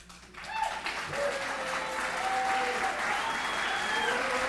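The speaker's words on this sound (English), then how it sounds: "Met with applause as well as some booing." A town hall audience in Pueblo held by Colorado's governor applauds steadily, and drawn-out vocal tones, likely boos, rise and fall through the clapping.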